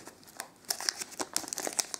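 Crisp crinkling and tearing of foil Panini Mosaic soccer card packet wrappers, a quick series of rustles and snaps close by, fairly quiet.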